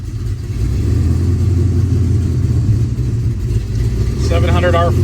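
A 1967 Chevrolet Chevelle Custom with a 383 V8, a big cam and a 700R4 overdrive idling nearby with a steady low, loping rumble, while someone talks over it throughout.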